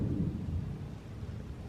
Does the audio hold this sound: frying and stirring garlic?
no